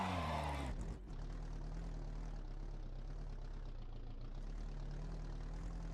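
Race car engine idling in the sim racing game iRacing, a steady, low, rumbling, tractor-like drone that holds evenly for several seconds after a brief burst of louder noise at the start.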